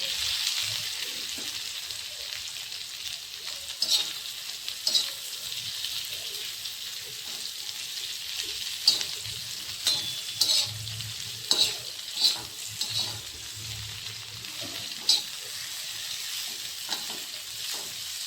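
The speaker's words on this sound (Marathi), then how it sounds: "आणि तिला खाली वर करून चमच्याने व्यवस्थित परतवून घ्यायची आहे" Okra stir-fries in a pan with a continuous sizzle, and a spoon turns it with occasional scrapes and taps throughout.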